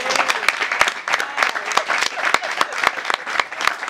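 An audience applauds during a live comedy and film event, producing steady dense clapping with sharp individual claps standing out, continuous over the whole stretch and fairly close.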